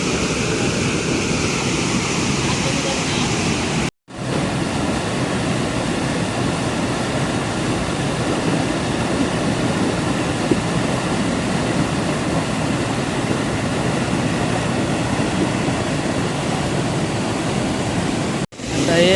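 Water pours steadily where small fish leap upstream, a loud, continuous rushing roar close by that holds constant apart from two brief cut-outs.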